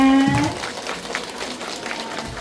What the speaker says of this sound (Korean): 모두를 환영하는 마음으로 옆에 분들에게 다 함께 격려의 박수 부탁드리겠습니다